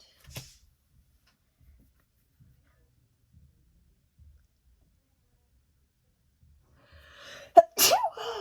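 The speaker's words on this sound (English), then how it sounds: "I don't mean to sneeze." Near silence with faint small noises, then a sudden sharp sneeze near the end, followed by a short breathy exhale.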